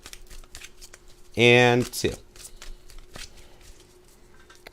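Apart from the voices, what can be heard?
shuffling tarot cards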